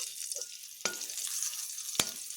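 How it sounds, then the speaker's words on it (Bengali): Whole cumin seeds and a green chili hit hot oil for a tempering while ridge gourd is being cooked, giving a steady close sizzle broken by two sharp, loud spits or clinks. "এইবার এখানে আমি একটি কাঁচা লঙ্কা ও গোটা জিরে ফোড়ন দেব"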